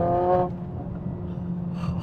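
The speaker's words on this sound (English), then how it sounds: "Listen to the exhaust in race mode." A car with an aftermarket downpipe barks loudly in race-mode exhaust, a short harsh rev that snaps off into a lower burbling idle rumble, close up with no talking.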